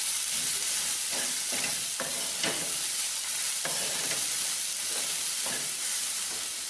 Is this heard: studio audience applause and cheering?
no